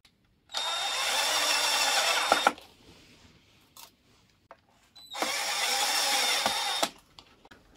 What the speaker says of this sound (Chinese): 拿电动扳手拧上就行了